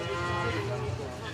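A calf moos steadily at a county fair beef show, a low drawn-out bovine call filling the short moment with crowd murmur around it.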